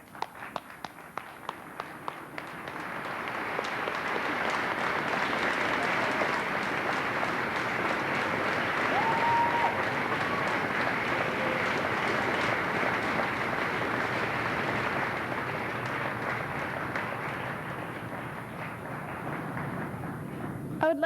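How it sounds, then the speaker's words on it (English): Graduates standing at the White Bear Lake Area High School Class of 1993 graduation ceremony join a long round of applause: a few separate claps swell into sustained, distant crowd clapping that holds for many seconds before easing off. "I would like to ask the graduates to please stand and join me in a round of applause"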